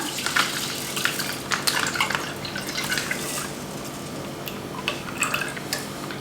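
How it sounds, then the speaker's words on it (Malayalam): Half a litre of milk poured from a torn packet into a pan for creamy paal pongal, a steady liquid splash and trickle with drip-like patter running throughout, fairly close and moderately loud, with no talking. "ഞാനിപ്പോൾ ഏകദേശം ഒരു 1/2 ലിറ്റർ പാല് പാക്കറ്റിൽ നിന്ന് പൊട്ടിച്ചിട്ട് അങ്ങനെ ഒഴിച്ചു കൊടുക്കുകയാണ്"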